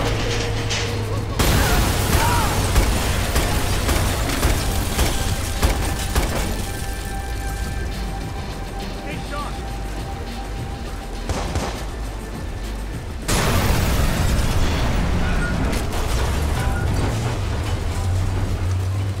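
Gunfire and explosions in the video game Watch Dogs come as dense, rumbling volleys that swell sharply at the start and again near the end. There is a steady bed of noisy combat between the bursts.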